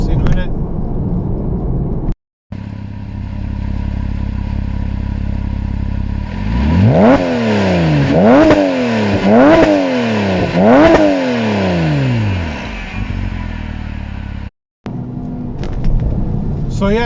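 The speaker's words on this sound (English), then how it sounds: "So yeah, so there you go. That's the exhaust." A Porsche Cayman 987 with performance exhaust idles with a low burble, then revs hard four times in quick succession, each roar rising and falling before settling back to idle.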